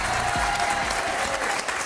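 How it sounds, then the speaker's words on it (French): Steady, dense studio audience applause on a French reality TV show, loud and continuous throughout with a faint crowd murmur. "Applaudissements pour Alia"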